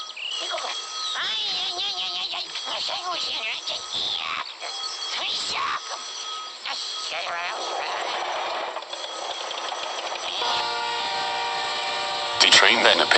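A Chilean train appears at a railroad crossing beside a handcar. Its rumble and horn-like tones sound bright and band-limited, with shifting squeals and rattles, and a louder burst comes at the end.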